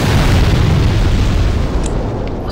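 Fire barrels exploding in the video game Demon's Souls give a loud, sustained boom with broadband rumble throughout, fading slightly near the end.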